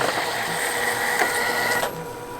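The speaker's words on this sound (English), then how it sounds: "I'm just going to let this go so you can kind of get an idea how fast the printer" An Epson WF7210 inkjet printer printing onto film, a loud steady whirring and buzzing of the moving print head with a few clicks, stopping abruptly near the end.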